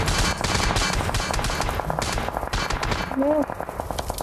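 Rapid video game gunfire rattles in dense, continuous bursts, loud and close, with players talking excitedly over the shooting.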